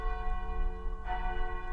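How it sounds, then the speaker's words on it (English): A church bell tolls at midnight, its steady ringing tones sustained throughout with a fresh strike swelling in partway, set against a low rumbling background with no voices. "from just beyond the fog, you hear the midnight toll of a church bell"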